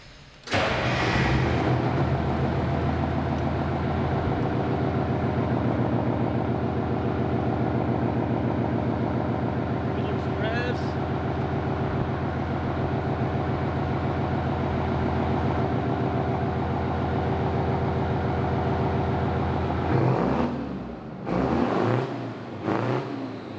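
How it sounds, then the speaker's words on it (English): A loud straight-piped Detroit Diesel 8V92 engine starts and rumbles steadily with a deep, raw exhaust and a faint turbo whine, then cuts off near the end. "You can hear the turbo now."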